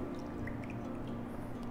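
Ocean Spray Classic cranberry juice is poured over a hand-cut block of ice in a cocktail glass, a faint, soft liquid trickle with light dripping, heard alone in a quiet room.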